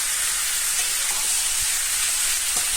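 Mutton kosha sizzles steadily in a pan with spices, a continuous close frying hiss with faint scrapes of stirring, no voices.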